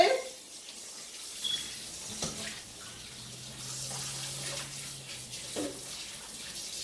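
Tap water running into a sink to rinse canned black beans for homemade chili, a soft steady stream with light splashing and a few clunks, fairly faint, with no one talking.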